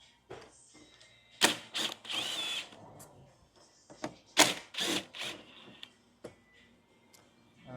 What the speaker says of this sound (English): with a number 5, we take off these 2 bolts at the top